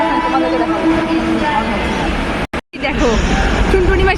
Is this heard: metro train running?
yes